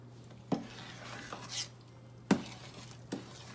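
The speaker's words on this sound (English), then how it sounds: "you have nothing to do but to watch this pot and stir it" Mango jam being stirred in a pot, with a quiet thick bubbling and a few sharp spoon knocks against the pot's side over a low steady hum.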